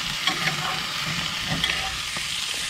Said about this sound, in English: We're gonna be basting with that melted hot butter